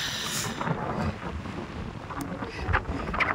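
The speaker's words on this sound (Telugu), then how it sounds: "మామూలు గాలి తోలట్లా." Strong wind blows across an open hilltop on a trek, buffeting the microphone in loud, gusty roars that swell and ease over a few seconds.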